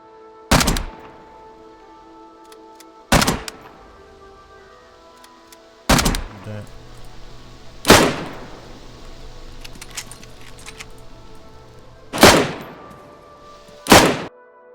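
Distant gunshots from weapons in the video game DayZ: six separate sharp cracks spaced a few seconds apart, each trailing off in a rolling echo, with quiet ambience between and no talk.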